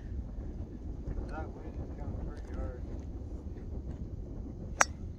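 Wind buffets the microphone outdoors on the Peak n Peak upper golf course, a steady low rumble running the whole time, with faint voices in the background and one brief sharp click near the end.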